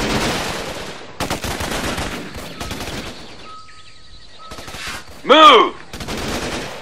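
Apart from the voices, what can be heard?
gunfire in the video game Raven Squad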